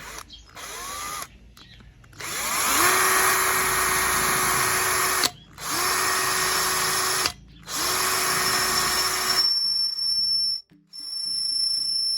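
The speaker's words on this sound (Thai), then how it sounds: "การเจาะเหล็กนะครับใช้ได้เลยนะครับ" A Total TIDLI20031 cordless impact drill whines loudly and steadily as it bores into steel, running in several long bursts separated by brief stops, close and harsh.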